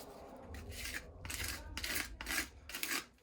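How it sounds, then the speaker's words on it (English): A putty knife scrapes hydraulic cement off a flat basement surface in four or five rasping strokes, each a gritty scratch about half a second long, close but quiet, with no talk. "For any of these flat surfaces, you can clean it up with a putty knife."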